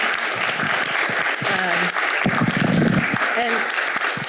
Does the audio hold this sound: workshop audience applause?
yes